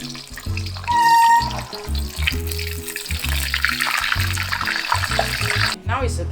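Hakka yong tau foo, tofu and stuffed pieces, frying in oil in a wok, a steady sizzling hiss under a voice talking throughout, with a few brief clatters and a short tonal whine near the start.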